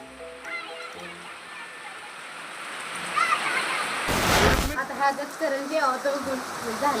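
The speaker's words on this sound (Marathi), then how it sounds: "हे बघा पाऊस आलेला आहे" Steady heavy rain hisses throughout, with a loud rushing burst midway and voices faintly underneath.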